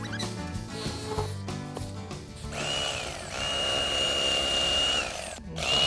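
A Bubba electric knife cuts through a cobia fillet with a buzzing, whining motor drone that shifts pitch as the blade bites, close and moderately loud, with scraping noises mixed in and no speech.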